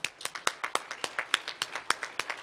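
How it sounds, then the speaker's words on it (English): A small group of audience members claps at an event honoring committee members, producing sparse, uneven, fairly faint claps in a loose rhythm. "Please give them a huge round of applause"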